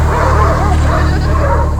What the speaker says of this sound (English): this group of dogs here is the actual team that's going to be running the Iditarod this spring